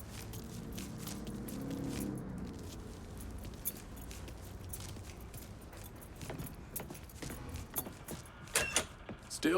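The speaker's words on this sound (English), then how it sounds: "Lincoln, pick up the keys." Truck keys jangle as they are picked up in the video game Mafia III, a brief metallic rattle over low ambient hum, with some scuffing movement near the end.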